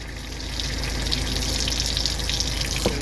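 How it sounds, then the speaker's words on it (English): Water gushes steadily from a hose on a livestock farm in freezing northern weather, a continuous close hiss and splash with no break. "Oh, their hose is running now."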